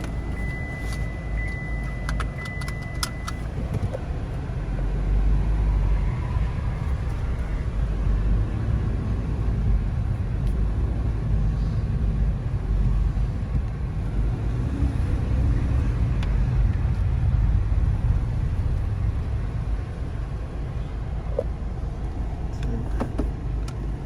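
A 2017 Opel Zafira with 150,000 km and a slipping drive belt idles and revs. The engine runs as a steady, close, low hum, swelling slightly a couple of times, with no talking.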